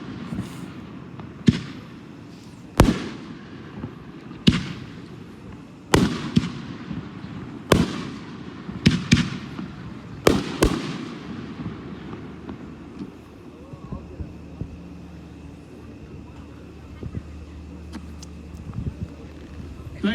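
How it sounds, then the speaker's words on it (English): Multicolored firework shells from an Apocalypse 24-shot kit burst at a public fireworks expo show in Andover, Kansas, with about six sharp, loud booms at a steady pace, followed by crackling tails and faint crowd noise. "now we're going to shoot 6 of the multicolored shells that are in the 24-shot kit"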